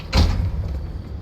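A steel door is fitted onto a car in the Pacific Drive video game, giving one short, heavy thud followed by a brief low rumble, with no talking.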